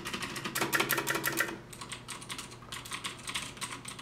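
Rapid clacking keystrokes on a Das Keyboard 4 Ultimate mechanical keyboard, close and crisp, in quick bursts with a short pause before typing resumes.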